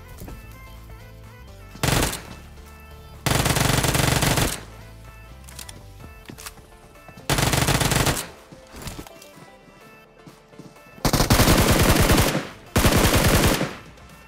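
Gunfire in the mobile battle royale game PUBG Mobile comes in several loud automatic bursts of rapid shots, each lasting about a second, separated by quieter pauses with softer game sounds.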